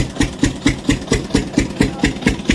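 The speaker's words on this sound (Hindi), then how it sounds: "यहाँ पर जनरेटर भी चल रहा था खेत पर।" A generator runs on a farm, giving a close, steady engine chug with rapid, evenly spaced thumps roughly four times a second and no voices.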